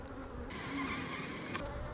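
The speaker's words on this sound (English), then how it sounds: "So I see a pretty good population of bees between frames 3, 4, 5, and 7." Honey bees hum in an overwintered hive opened for inspection, a dense close buzz of many insects, steady with slight swells and no speech.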